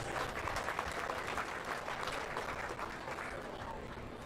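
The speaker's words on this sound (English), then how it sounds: "Let's give them all a nice round of applause on a good class of does" Audience applause for a class of does at a county fair sheep and goat show, sustained steady clapping from a moderate-sized crowd, somewhat distant, tapering slightly at the end.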